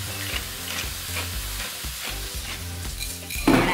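Garlic and onion frying in oil in a pot for mussel soup, a steady close sizzle with repeated stirring scrapes, with no talking.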